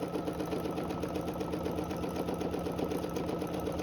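A sewing machine stitches in the ditch along a quilted runner, a fast even whirring hum of needle strokes running steadily and close for several seconds without pause.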